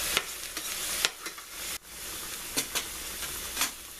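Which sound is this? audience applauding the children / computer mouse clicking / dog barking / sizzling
sizzling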